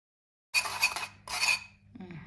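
A spoon clinks and scrapes against a bowl while sugar glaze for a coconut loaf is mixed, in two short bursts of brisk metallic stirring, then a softer, duller scrape. Nearby and without speech.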